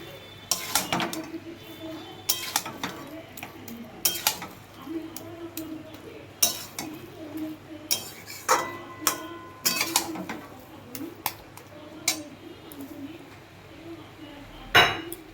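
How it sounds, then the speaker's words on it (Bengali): A utensil stirs grated coconut into a banana flower curry in a pan, giving scattered clinks and scrapes against the metal at an irregular pace, with some soft background noise. "নারকেল কোড়াটা দিয়ে একটু নাড়াবো।"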